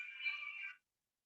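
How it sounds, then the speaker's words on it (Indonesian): Phone ringtone signalling an incoming call, a faint electronic warble lasting under a second before cutting off abruptly, followed by silence. "Sebentar ya, ada telepon dari kita."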